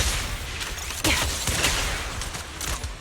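Rapid bursts of gunfire from fire support in a video game, a dense volley of shots with sharp transient cracks over a busy, sustained backdrop; no voices.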